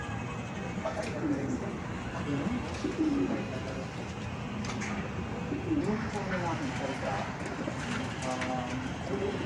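Pigeons coo in a racing pigeon loft, soft repeated throaty calls scattered through the stretch at close range beneath someone talking steadily.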